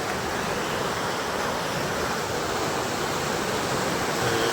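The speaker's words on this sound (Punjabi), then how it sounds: "ਹਾਲੋ ਇਹ ਸਭ ਪਾਣੀ ਆ ਰਿਹਾ ਜੀ" Loud, continuous roar of floodwater rushing through the Bist Doab canal near Kot Fatuhi, Punjab, broad and unbroken like a heavy torrent pouring through a channel.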